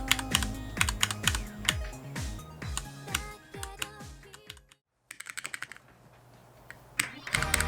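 Rapid clacking of keys on a custom-built keypad fitted with red linear mechanical switches, dense bursts of strikes alongside game music, a brief silent gap, then more bursts of keypresses.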